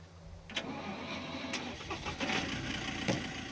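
A car engine in the survival game Scum cranks and catches, then settles into a steady mid-pitched running rumble with a few clunks, heard on its own.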